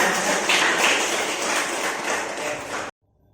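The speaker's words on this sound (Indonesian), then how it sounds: "Tepuk tangan untuk semuanya." A classroom full of students clapping together, dense and steady for about three seconds, then stopping abruptly into near silence.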